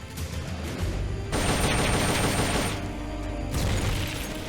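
Rapid bursts of video game gunfire from Metal Gear Solid: Peace Walker, dense and loud, with a steady mechanical rattle between volleys and no talk.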